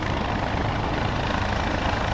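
Helicopter landing for an extraction in a video game, a loud, dense, continuous rotor-and-engine roar that stays close and unchanging throughout.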